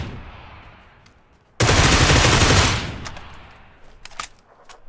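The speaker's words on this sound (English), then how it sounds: "I only heard the firing shots" Video game gunfire erupts in a loud, dense burst of rapid shots lasting about a second, then trails off into quieter scattered pops and sharp cracks against a low ambient background.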